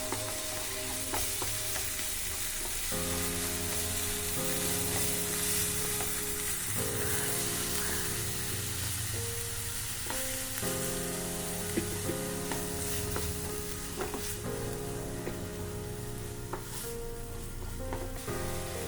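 Ground masala paste sautés in a pan for a no-oil prawn snack, with steady close sizzling and repeated scraping and stirring strokes of a spoon across the pan, continuous and loud with no voices.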